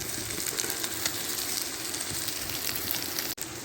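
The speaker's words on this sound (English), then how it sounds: "I decided to get myself some chilli sausages. So we'll chuck them in as well." Chilli sausages frying in a pan on a wood stove inside a hot tent while wild camping in Scotland, giving a steady close crackling sizzle throughout.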